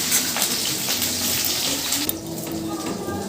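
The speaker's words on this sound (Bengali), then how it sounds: "এখানে পেঁয়াজ কুচি আর কাঁচা লঙ্কা কুচি রয়েছে সেইটা আমি তেলের মধ্যে দিয়ে দিলাম" Chopped onion and green chili sizzling in hot oil with black cumin in a home kitchen pan, a steady close hiss and crackle that eases slightly near the end.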